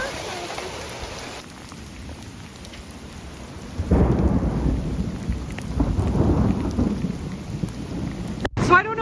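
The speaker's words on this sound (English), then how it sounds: "It's raining so hard." Heavy rain pours down steadily with a deep rumble of thunder swelling overhead, a broad roaring wash that grows louder midway and stays close and continuous.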